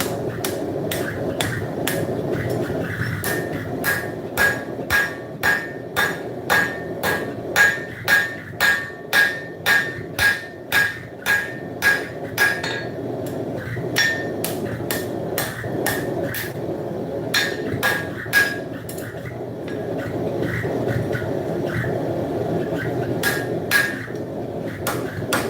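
A hammer rings in a steady, fast run of sharp metallic blows on hot scrap steel at a forge, with bright anvil pings. It pauses partway and then resumes in a few scattered strikes, all close and loud.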